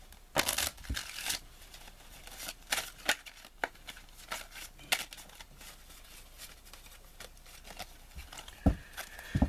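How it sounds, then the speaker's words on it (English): A full deck of 52 playing cards is shuffled by hand for the card game Golf, giving repeated crisp riffling bursts and paper flutters in irregular spurts, close and fairly loud with quiet pauses between. "That player is going to take all 52 cards and shuffle them."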